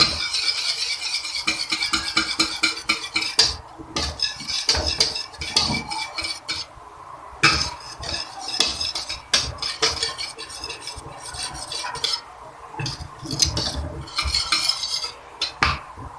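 A utensil stirs a thickening coconut and cocoa cream mixture in a pot, scraping and clinking against the metal in repeated bursts with short pauses between strokes.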